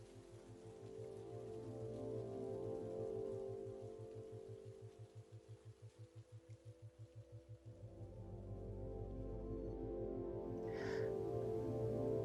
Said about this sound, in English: I hardly even notice the rain.